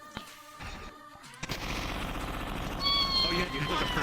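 Rapid gunfire in a VRChat virtual reality game, a burst of shots cutting in after a short quiet stretch, with voices and other noise from the game mixed in.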